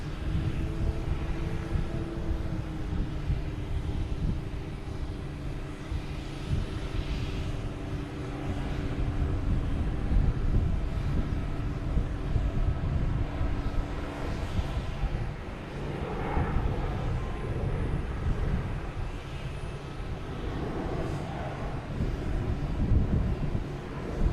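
A United Airlines jet at Boston Logan rumbles as it starts to move, a low steady engine drone with gusts of wind across the microphone, staying at moderate distance throughout.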